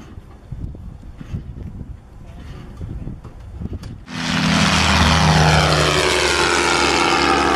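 A Bayraktar TB2 medium-altitude long-endurance unmanned combat aircraft's propeller engine roars in abruptly, loud and close, holding a steady broadband drone after a few seconds of quieter background noise.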